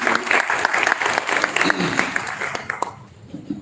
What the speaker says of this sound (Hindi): आप लोग थोड़ा सा ताली बजा